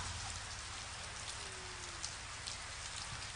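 Steady rain falls outside a religious gathering, a dense even hiss of drops heard on its own at moderate loudness without talk.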